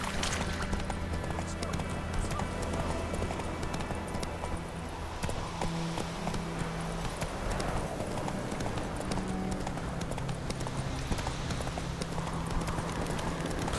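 Roach the horse galloping in The Witcher 3, a loud, fast, continuous drumming of hooves over game ambience that runs unbroken throughout.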